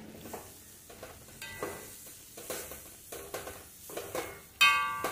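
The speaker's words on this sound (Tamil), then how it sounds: "அதையும் கொட்டி நல்ல கிளறி கொடுத்து ஒரு 2 மினிட்டு அது ஃப்ரை ஆகுது வரை வச்சுருக்கணும்." Cauliflower fry with chopped coriander leaves crackles softly in a pan while a spatula stirs and scrapes it in regular strokes, ending with a sharper metallic clink.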